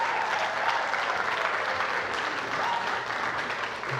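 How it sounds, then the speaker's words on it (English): Raucous applause fills a quiz show studio after a team's round victory, a dense, steady wash of many hands clapping close by, sustained at full volume throughout. "Raucous applause"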